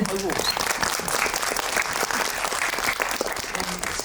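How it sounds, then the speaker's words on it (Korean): An audience claps steadily and loudly for several seconds at a Korean film talk event, with no break in the applause. "박수를 한번."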